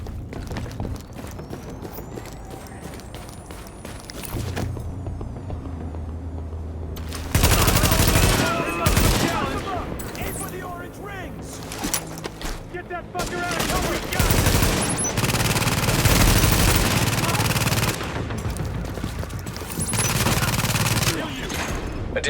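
Gunfire in the video game Tom Clancy's The Division, with bursts of automatic rifle fire and rapid shots in loud clusters, separated by quieter gaps, with some game voices mixed in.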